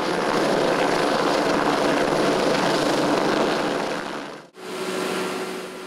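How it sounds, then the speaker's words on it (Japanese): A prefectural disaster-prevention rescue helicopter roars steadily overhead during a disaster drill in Yurihonjo, Akita, Japan, loud and close, its engine and rotor noise filling the air before briefly dropping out and returning. "県防災ヘリが救助を行います"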